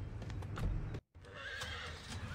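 A horse neighs loudly in a prison-themed video game, a clear whinny with faint hoof clip-clop, broken by a brief silent gap before game ambience resumes.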